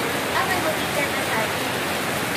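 Heavy rain pours down in a steady, dense hiss of broadband noise that continues without a break, and faint voices can be heard underneath.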